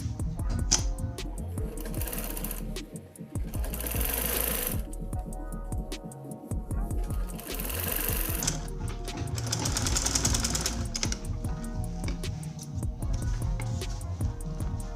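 A sewing machine stitching fabric for a senator top runs in a fast, rhythmic mechanical rattle, with bursts of stitching separated by brief pauses.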